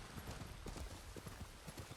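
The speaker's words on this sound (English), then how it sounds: "Where the hell is that horse going?" Horse hooves galloping in the Ghost of Tsushima video game, a quick steady clip-clop rhythm set against a dense wash of in-game ambience.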